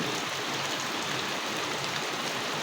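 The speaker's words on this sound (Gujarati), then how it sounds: "ઈડરમાં તો એકદમ ફૂલ વરસાદ અને બહુ ગાજે બી છે વરસાદ" Heavy rain pours down steadily in Idar, a dense, even hiss of water on surfaces with no pauses and no voices.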